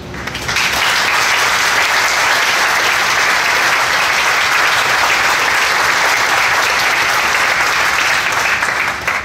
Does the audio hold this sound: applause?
yes